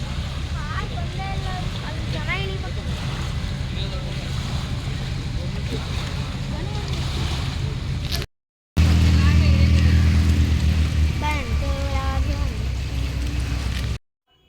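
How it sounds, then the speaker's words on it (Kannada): A low, steady engine drones on a car ferry launch at Sigandur while people talk over it; after a brief cut, the engine rumble returns louder. "ಇವಾಗ ಲಾಂಚ್ ಬಂತು ಹೋಗ್ತಾ ಇದ್ದೀವಿ"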